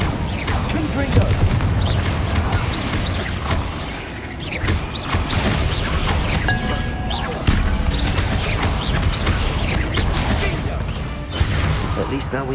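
A Confringo fire spell bursts in Hogwarts Legacy, with heavy booms and crashing impacts around 7.5 and 11 seconds, thick with game clatter and music, while voices talk over most of it.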